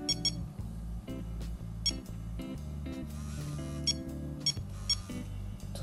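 Short electronic beeps from the Bumper pinball game on a Nokia 3330 phone, quick irregular bleeps over a rhythmic low thumping background, faint and close.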